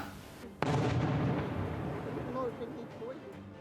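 A sudden heavy blast of artillery shelling booms nearby in Donetsk region, Ukraine, followed by a long rumbling roar that slowly fades, with faint sounds scattered on top.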